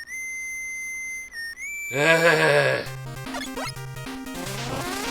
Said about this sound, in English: very classic whistle